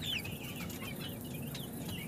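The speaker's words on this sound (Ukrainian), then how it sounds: "Півничок голошийка." Naked neck cockerel and a group of chickens in a coop at evening, giving soft, steady clucks and chirpy calls close by with a constant low rustling background.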